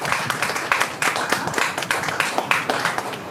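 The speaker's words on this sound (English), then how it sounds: "give a round of applause to the college coaches for coming and doing this." An audience at a national shooting-sports event applauds visiting college coaches, brief lively clapping from a modest crowd with distinct individual hand claps, close and fairly loud.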